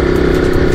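KTM RC 200 motorcycle engine running steadily and loudly up close, a continuous droning hum with no break across the short moment.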